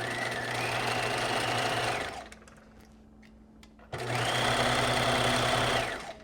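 A sewing machine runs fast and steady, stitching the inside hem of a knit pencil skirt, in two loud close bursts with a brief quiet pause between them.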